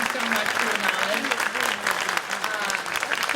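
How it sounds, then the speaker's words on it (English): An audience at a Cleveland town hall applauds the panel of experts, with steady, dense clapping filling the room and a voice talking over it. "Round of applause for them."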